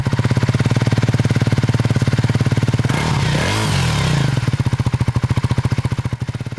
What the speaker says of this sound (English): we'll cut in some footage of the engine running, and so that the people at home can hear it